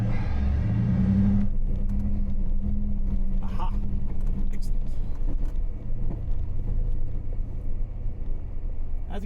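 An oncoming vehicle rumbles low and steady on a narrow trail road at Ringing Rocks, Montana. It holds a continuous engine drone that eases slightly partway through, with brief remarks spoken over it.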